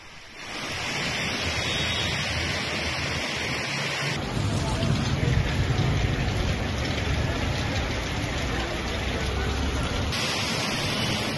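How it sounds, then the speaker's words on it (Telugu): Heavy rain pouring across Hyderabad neighbourhoods such as Chandanagar, Miyapur and Nizampet, a steady broadband hiss that continues loud throughout and grows denser partway through. "చందానగర్, మియాపూర్, నిజాంపేట్లో కూడా భారీ వర్షం పడుతోంది."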